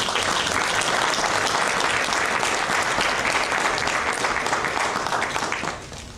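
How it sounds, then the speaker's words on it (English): A round of applause from trustees and audience at a town board meeting, dense sustained clapping for about six seconds that thins slightly at the end. "I think that deserves a round of applause."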